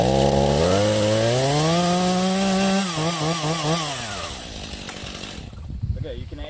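A chainsaw cuts into a tree trunk on the back side of a felling cut, its loud, steady engine drone dipping and wavering under load before fading toward the end.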